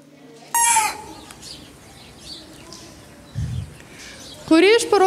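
Jungle fowl call in two loud, harmonic bursts, one near the start and another at the end, over a low background hum.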